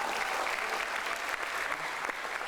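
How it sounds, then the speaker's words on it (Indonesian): Loud, dense applause from a talk-show audience for Dr. Alvin at a sport-and-health event, a continuous roar of many clapping hands filling the whole moment. "Sekali lagi coba berikan tepuk tangan yang paling meriah untuk Dokter Alvin ya."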